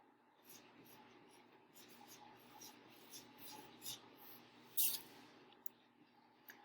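Handwriting on paper, soft pen or pencil scratching strokes in short bursts, faint and close, with a sharper tap midway.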